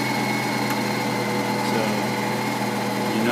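A Honda EX5500 generator engine runs at a steady, unbroken drone with a constant pitch, fairly loud and close, with no voices over it.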